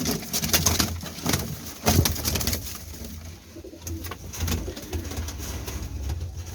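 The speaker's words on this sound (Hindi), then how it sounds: "ये जी रॉयल ज़ीरा कबूतर आया है" Royal Zeera pigeon cooing nearby, a series of repeated throaty coos with brief pauses and a few sharp clicks over low background noise.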